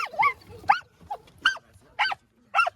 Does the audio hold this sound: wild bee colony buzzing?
no